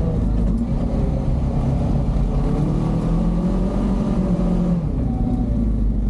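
A Honda Pioneer 500 side-by-side engine drones loudly and steadily at mid-range revs while riding and sliding around, with a low rumble and slight pitch swells.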